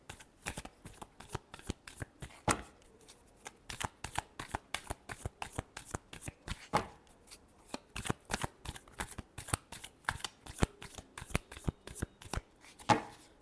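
Tarot cards riffled and shuffled by hand in quick rhythmic bursts, crisp close flicks repeating steadily for several seconds with brief pauses, no talk.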